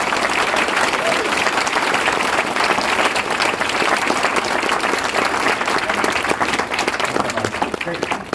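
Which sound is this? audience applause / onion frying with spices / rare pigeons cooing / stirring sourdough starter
audience applause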